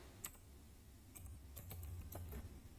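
Several light keystrokes on a computer keyboard, typed into a search bar, come as a short irregular run of clicks over a low steady hum, faint and close.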